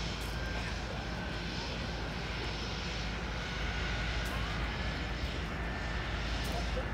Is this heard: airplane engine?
yes